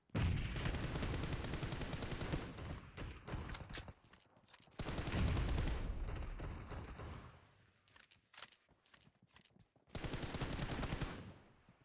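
Gunfire in the video game PUBG Mobile: loud, dense bursts of automatic fire run for several seconds at a time, separated by short pauses with a few scattered single shots.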